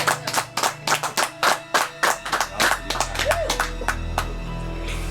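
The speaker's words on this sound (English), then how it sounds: "let's give Sarah a round of applause one more time." A small indoor group claps in a steady, slow rhythm of separate sharp claps, then the clapping thins out as a sustained tone and low hum take over, with no talk over it.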